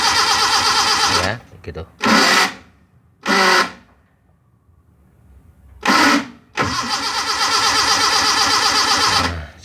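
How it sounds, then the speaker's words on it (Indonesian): A Suzuki Carry with a weak starter, cranking feebly without catching in short separate bursts between quiet gaps, with a person talking over and between the attempts. "jika di starter itu cuma cengengesan saja seperti itu"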